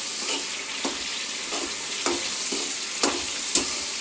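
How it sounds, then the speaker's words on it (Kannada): Masala with salt frying in a pan, a continuous hiss of sizzling oil broken by regular spatula strokes roughly every half second, close and steady, no voices. "ಉಪ್ಪೆಲ್ಲ ಮಸಾಲೆಗೆಲ್ಲ ಚೆನ್ನಾಗಿ ಫ್ರೈ ಆಗಬೇಕು"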